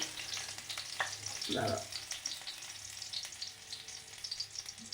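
Two lentil dumplings (bori) fry in a pan with a quiet, even sizzle, and a brief rustling scrape of stirring partway through.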